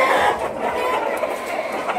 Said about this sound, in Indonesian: Berisiknya ayam-ayam berkokok sama berisiknya ayam minta makan